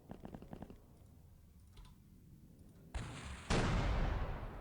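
Tank battle cannon in X-Piratez: a few soft clicks lead into two loud, booming cannon blasts close together, the second heavier one ringing out to the end.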